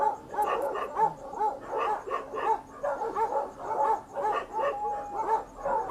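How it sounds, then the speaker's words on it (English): Several dogs on a farm bark repeatedly in overlapping bursts, steady rhythmic woofs and yips at moderate distance continuing for several seconds without talk. "And they're probably barking at an ant."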